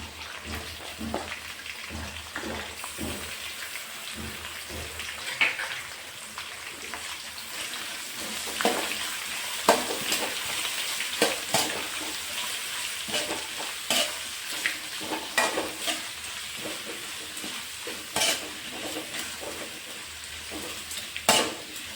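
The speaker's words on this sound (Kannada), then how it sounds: "ಈರುಳ್ಳಿ ಹಾಕಿದ್ದೀನಿ ಚೆನ್ನಾಗಿ ಇದನ್ನು ಕೂಡ ಚೆನ್ನಾಗಿ ಫ್ರೈ ಮಾಡ್ಕೋಬೇಕು" Sliced onions frying in oil in a pan for uppittu, a steady close sizzle with repeated stirring scrapes and clicks running throughout, no speech.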